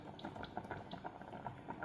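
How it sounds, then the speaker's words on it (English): Water in a pot on the stove starts to boil while cooking zucchini pancakes, egg rolls and rice, giving faint, quiet, irregular bubbling and popping with no voices over it. "See, it started to boiling."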